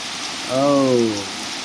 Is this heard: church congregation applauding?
no